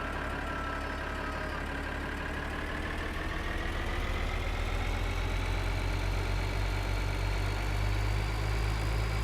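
Tractor engine in Farming Simulator 2013, on a farm field, runs at a steady loaded drone with a strong low rumble and rising whine, continuous and close throughout with no talk.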